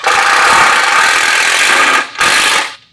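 A power drill drives a screw into wooden cornhole board stock, a loud steady whirring grind for about two seconds, a brief pause, then a second short burst before stopping.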